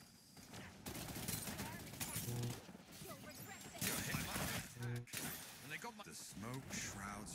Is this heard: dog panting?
no